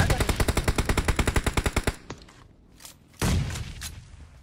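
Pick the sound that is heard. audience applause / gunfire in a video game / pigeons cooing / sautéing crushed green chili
gunfire in a video game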